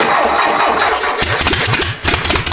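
An air-cooled four-cylinder Volkswagen engine cranks with a steady starter chug, then catches and roars to life, revving loud and close with sharp throttle bursts.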